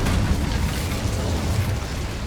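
A whooshing, roaring burst of flame from the Incendio fire spell in Hogwarts Legacy, a steady loud blast of crackling fire lasting a couple of seconds with no talk.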